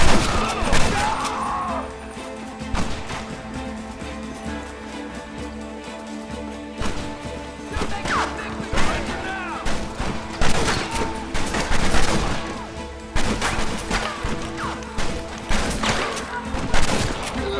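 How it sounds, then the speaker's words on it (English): Gunfire erupts in the Red Dead Redemption video game during a village assault, with rapid overlapping rifle and pistol shots, sharp cracks and heavy thuds, while voices shout over the fusillade. "Keep shooting!"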